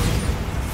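A Bombarda blast spell goes off in Hogwarts Legacy, a dense, loud low-frequency boom filling the whole brief moment with no voices.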